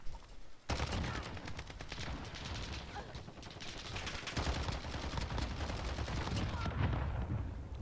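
Rapid automatic fire from a CR-56 AMAX rifle in Call of Duty: Modern Warfare, with dense, continuous bursts that are loud and close and run almost without a break.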